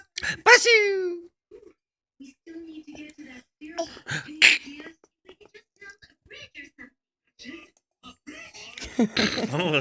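A young girl makes a fake sneeze early on, a sharp nasal burst, with an adult voice responding nearby and more talking and vocal sounds following.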